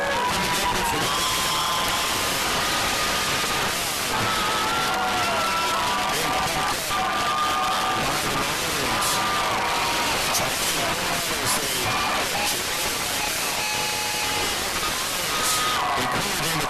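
Spectators at a high school football game between Pulaski County and Whitley County give a continuous, dense crowd roar with cheering. It swells steadily at a distance and never breaks.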